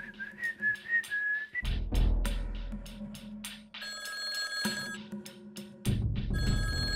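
After some whistling, a telephone rings in bursts of bright electronic trills, fairly close, over a low background rumble.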